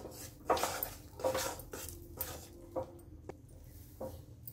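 Thick besan barfi mixture stirred in a pan, with a spoon clinking and scraping against the metal several times at an irregular pace, quiet and close, with soft squishy movement between strikes.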